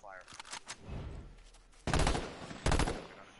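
Gunfire in the H1Z1 video game, where a few quieter shots are followed by two loud, sharp bursts of rapid fire, close by, with faint voices mixed in.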